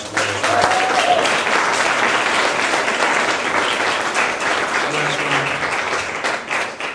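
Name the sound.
applause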